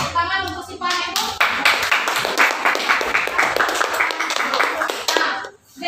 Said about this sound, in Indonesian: Ya, tepuk tangan untuk Sipa ibu.